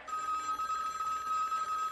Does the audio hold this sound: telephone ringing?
yes